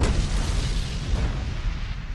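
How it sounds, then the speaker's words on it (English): A big explosion opens the Iron Man movie trailer, a sustained, loud low-frequency rumble and boom that fills the whole stretch with no voices over it. "this trailer just immediately hits you with the explosion out the gate"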